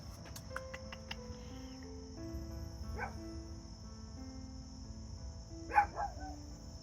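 A small dog gives a few sharp barks, faint and somewhat distant, over quiet background music with a steady tone.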